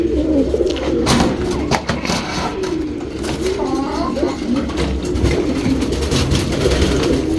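Old racing pigeons cooing inside a loft, their soft warbling calls drifting over a steady low hum of background noise and faint murmuring, with the cooing continuing throughout.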